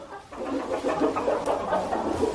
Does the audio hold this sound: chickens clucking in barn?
yes